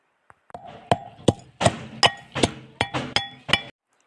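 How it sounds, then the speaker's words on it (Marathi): Chilies and garlic are pounded in a stone mortar and pestle in village style, nine or ten sharp, ringing strikes at an uneven but steady pace, each with a short clinking decay, close and clear with no talk. "लसूण तो आपण कुटून घेणार आहोत पूर्ण गावरान पद्धतीने खलबत्त्यामध्ये असे कुटून काढू"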